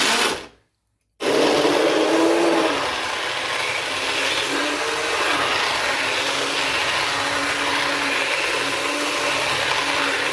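An electric grinder jar blends chicken haleem to a coarse texture. After a brief start, the motor whirs loud and steady with a constant droning hum that runs unbroken to the end.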